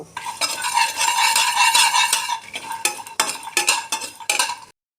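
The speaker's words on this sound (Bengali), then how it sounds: "বাদাম আর শুকনো লঙ্কা, দুটো শুকনো লঙ্কা টেলে নেব।" Peanuts and dried red chilies dry roasting in an oil-free pan, a loud rattling scrape as they are stirred and tossed, continuous at first and then breaking into short separate bursts before stopping.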